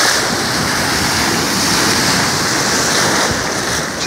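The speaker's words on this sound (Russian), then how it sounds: "Океан просто волшебный." Atlantic Ocean surf on Varadero beach, Cuba, a continuous close roar of breaking waves and rushing water washing over the shore, loud and steady throughout.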